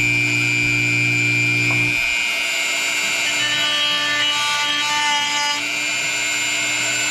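A power tool fitted with a cutting attachment runs steadily as it routs a shallow groove for lighting wires, a loud continuous whine that shifts in pitch as it bites into the material, close up with no talk.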